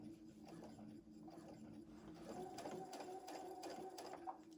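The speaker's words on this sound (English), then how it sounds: "I'm going to start to sew" A sewing machine stitches an appliqué pillow in soft, rapid mechanical bursts, quiet and close, with a few brief pauses between runs.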